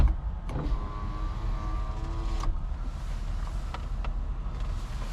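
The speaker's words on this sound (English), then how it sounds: "your windows work" A Honda Accord's power window motor whirs with a steady whine for about two seconds and ends in a soft clunk, heard from inside the car over a low cabin rumble, followed by a few faint clicks.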